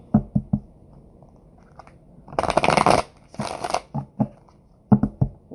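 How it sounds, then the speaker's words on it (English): Playing cards riffle-shuffled in two close, loud bursts, each a dense papery whir lasting about a second, set between softer taps and handling clicks of the deck; no one speaks. "All right, Leo, let's try to shuffle again."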